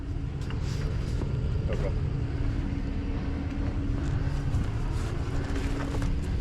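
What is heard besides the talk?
Ford F-250 pickup truck driving out under its own power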